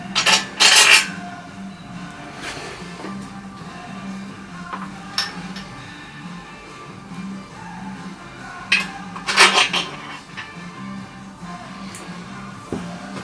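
Metallic clinks and light scraping as a YB Cosworth engine block is turned over on the bench and a bearing cap with its shell is fitted, with two sharper clattering bursts among scattered small taps.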